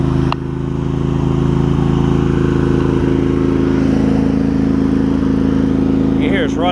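A warmed-up Craftsman garden tractor engine idles loudly and steadily close by, a constant low drone with a brief lull at the start and a faint change under load near the end.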